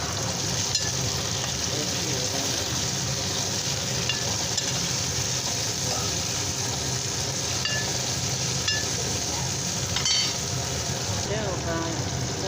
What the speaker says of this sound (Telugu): వేసి ఈ విధంగా ఫ్రై చేస్తున్నాను